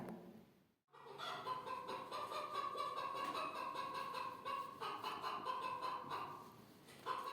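A hen clucks repeatedly in short, throaty bursts, close by and moderately loud, with faint farmyard background noise.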